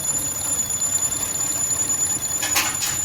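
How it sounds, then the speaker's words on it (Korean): A car engine idles with an odd, uneven rumbling, a steady close drone with a faint high whine running through it and a couple of brief hissy bursts near the end, no voices. "소리도 나면서 엔진도 약간 좀 부룩부룩 하는 것 같은데?"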